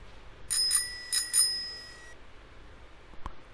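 Two quick double rings of a bicycle bell in an educational children's video game, bright and clear, followed by a lingering tone and a single soft tap near the end.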